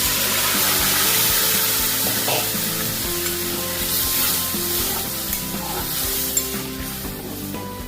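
Sizzling and bubbling from a ghugni pan of dried peas as boiled pea water is poured in, a steady loud fry-and-hiss over low clattering, with a brief spatter near the end and no talk.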